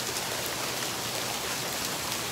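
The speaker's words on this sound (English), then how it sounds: "That's a lot of hail right there." Hail pours down onto a backyard, a dense, continuous hiss of countless small impacts with no pauses.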